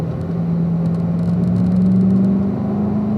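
A car on a race track pulls out of a corner under acceleration, its engine giving a steady, droning whir that swells slightly as it gains speed, with no one talking.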